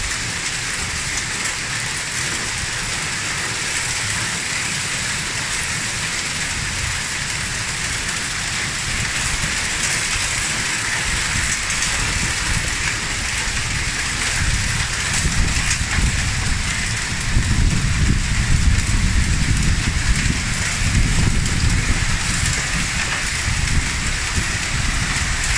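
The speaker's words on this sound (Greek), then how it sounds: "Επί 5 λεπτά πέφτει χαλάζι." Hail pelts down steadily on surfaces in Naousa, a dense continuous patter like heavy rain that keeps going for the whole stretch and grows noticeably stronger and louder toward the end, with no voices over it.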